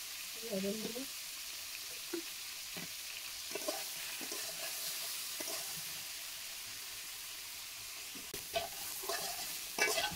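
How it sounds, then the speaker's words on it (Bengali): Yam stalks fry in a kadai over heat, giving a steady low sizzle broken by repeated scraping stirs of a spatula against the pan, close and fairly quiet throughout. "ডাঁটাগুলো ভালো করে ভেজে নেব।"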